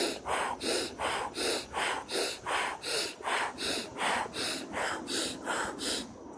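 Deep breathing exercise, in and out: a steady run of about a dozen close, audible breath cycles, each a soft airy rush swelling and fading in an even rhythm, with no talking.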